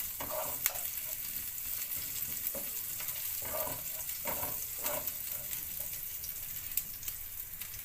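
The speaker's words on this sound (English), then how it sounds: "Just going to stir that for a few minutes." Seasoning fries in a pan for a brown stew fish dish, giving a quiet, continuous sizzle while it is stirred with soft, repeated scraping strokes.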